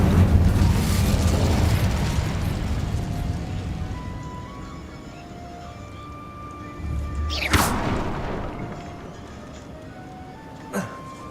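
Incendio fire spell cast in Hogwarts Legacy, a loud whooshing, roaring fire burst that swells and fades, followed by a sharp crackling flare and a smaller later pop, with faint game music underneath.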